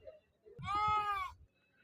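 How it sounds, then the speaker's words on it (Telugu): A young sheep gives a single clear bleat lasting under a second at a Saturday livestock market, with Nellore and mixed breeds of sheep and lambs present; the bleat sounds near and stands alone against quiet surroundings. "పిల్ల గొర్రెలు ఉన్నాయి ఇలా. కొన్ని పిల్లలు, కొన్ని గొర్రెలు ఉన్నాయి."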